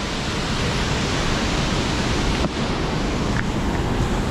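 A rushing stream at Peessa Ella waterfall in Sri Lanka, its water level rising, gives a loud, steady broadband roar that fills the whole clip without a break.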